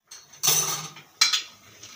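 A child plays with metal pots and utensils in a home kitchen, two or three close clattering clanks of metal on metal separated by short pauses, with no voices.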